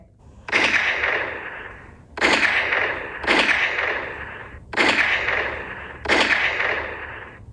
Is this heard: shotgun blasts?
yes